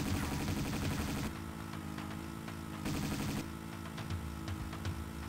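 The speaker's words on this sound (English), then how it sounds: "Dude, we have a bike with machine guns on it." Machine guns mounted on a bike in Tomb Raider 2 fire in dense rapid bursts, loud and close, with a pause between two sustained volleys and an engine rumble beneath.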